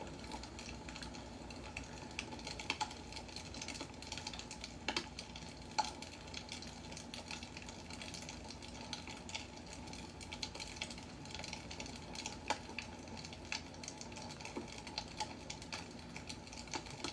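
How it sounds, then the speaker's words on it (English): A computer keyboard is typed on steadily in the background during a live drawing stream, with quiet, continuous clicking and a few slightly louder taps, no talk. "Who is turning up the keyboard in the back?"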